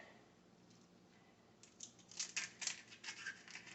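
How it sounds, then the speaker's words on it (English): Kitchen shears snipping through cooked lobster shells for thermidor, a quiet start followed by a run of crisp, crunchy cuts and cracks from about halfway in, close and alone with no talk. "But let me cut these shells"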